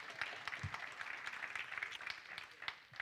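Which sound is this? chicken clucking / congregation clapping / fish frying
congregation clapping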